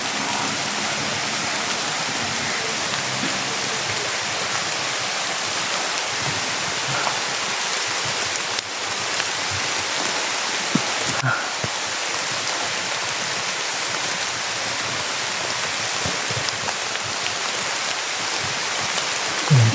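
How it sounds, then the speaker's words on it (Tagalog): Heavy rain pours steadily with a dense, even hiss, no voices, constant and close throughout. "Malakas po yung ulan"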